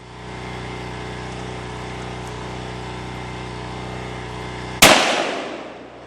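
A rifle shot at a one-pound tannerite target strikes the stump beneath it, giving one sudden loud crack that decays over about a second after a steady low engine-like hum.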